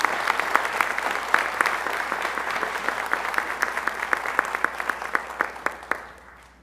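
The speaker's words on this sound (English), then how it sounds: "if you'll give them all a round of applause" Sustained audience applause fills a hall during an academic honors day ceremony, many hands clapping steadily at moderate volume with a few louder individual claps standing out, then tapering off at the end.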